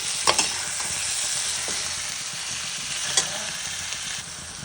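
Ivy gourd sabzi sizzles steadily in a pan as it is mixed, a dense close frying hiss with a few sharp spoon knocks and scrapes scattered through.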